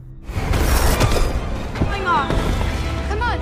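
A burst of booming blast sound from exploding crates in the film Madame Web, with crackling debris and whooshing, followed by sweeping whistling tones, loud and close.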